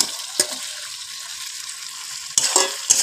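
Fried pointed gourd and potato are stirred into sizzling spice paste, with a few sharp scrapes and clatters against the pan over a gentle, steady fry.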